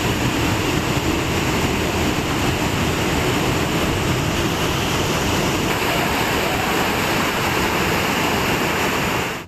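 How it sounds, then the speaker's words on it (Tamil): Flash flood water pouring from Panchalinga waterfall and surrounding the Amanalingeswarar temple at its foot, a loud, dense, unbroken roar of rushing water that fills the whole clip. "பஞ்சலிங்க அருவியில் வெள்ளப்பெருக்கு ஏற்பட்டு அடிவாரத்தில் உள்ள அமனலிங்கேஸ்வரர் கோவிலை வெள்ளம் சூழ்ந்தது"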